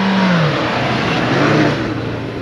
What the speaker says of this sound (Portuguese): Lá vem um Compass 4x2.